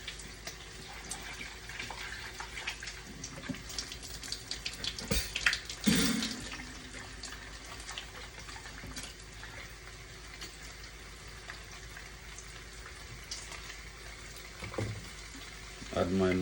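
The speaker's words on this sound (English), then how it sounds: "Wash my mushrooms, guys." Mushrooms rinsed under a running kitchen tap while making a Jamaican breakfast, with a steady, fairly quiet stream of water broken by a few splashes and clatters.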